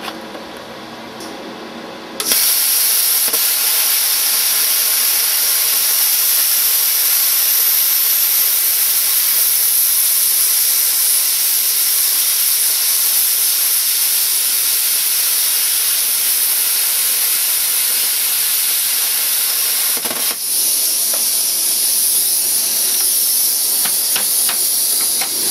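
An R-Tech P50HF plasma cutter slices through quarter-inch copper, starting with an abrupt loud jump into a harsh, steady hiss that holds for over twenty seconds with a brief dip near the end.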